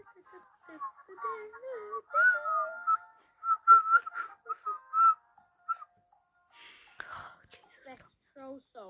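A person whistles a tune softly, in short wavering phrases with gaps, with faint breathy whispering between them.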